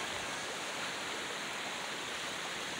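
Steady rushing flow of river water at Shahdara near Islamabad, a continuous broadband wash heard close and fairly loud throughout, with no voices.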